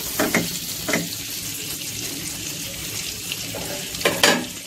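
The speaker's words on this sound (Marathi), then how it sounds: "आता आपण गरम पॅन मध्ये बटर टाकून घेऊ आणि त्याच्यावरती हे जे सँडविच बनवलेलं आहे ते आपण हे करू" A cheese omelette sandwich toasting in butter on a hot pan gives a steady sizzle, broken by a few louder bursts of hiss and clatter near the start and end, with no speech.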